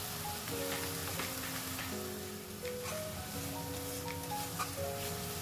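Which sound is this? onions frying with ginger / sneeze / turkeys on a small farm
onions frying with ginger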